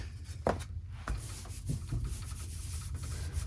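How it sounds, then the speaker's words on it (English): Quilt batting is smoothed by hand over a foam core board: soft, close rubbing and brushing strokes, faint and uneven, with no voices. "Just smooth it out really nice."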